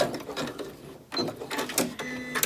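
A sewing machine backstitches across a terry towel in short mechanical bursts, a rapid stitching whir that stops briefly and then starts again, close up.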